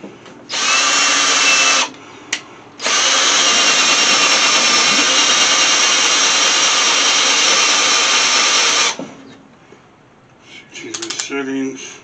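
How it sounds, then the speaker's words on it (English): A power drill fitted with a hole saw bores into wood on a doghouse being renovated, a loud steady whine running about a second, pausing briefly, then grinding on for six more seconds before winding down into quieter clatter. "I use the half inch, because this way we have enough room for the blade for my drill to go in"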